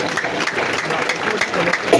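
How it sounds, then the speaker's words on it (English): An audience claps for a panel at an NUP political event, a dense steady wash of applause from many hands throughout, fairly loud and close. "I will ask each of us to clap for our able panel"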